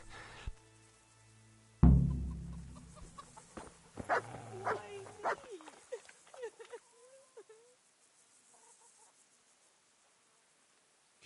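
A dog in the medieval role-playing game Kingdom Come: Deliverance gives a sudden loud bark, followed by a few softer yelps and whimpers. Game voices speak over it.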